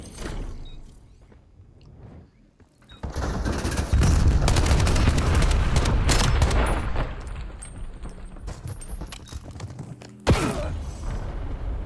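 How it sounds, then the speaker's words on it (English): Bursts of rapid, loud gunfire with mechanical clacks from a shotgun in the video game Black Ops 7, a dense flurry building mid-clip and a sharp blast near the end, with no talking. "How does his shotgun shoot that fast?"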